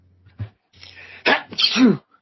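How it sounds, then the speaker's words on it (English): One close, loud sneeze with a sharp intake of breath before the burst, then quiet. "did you sneeze?"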